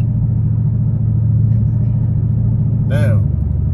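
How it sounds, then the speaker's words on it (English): A loud, steady Chevrolet Camaro SS exhaust rumble, through an AWE axle-back Track exhaust, idles close by with a deep, throaty tone, and a brief higher whine rises near the end. "it do sound like a sport car"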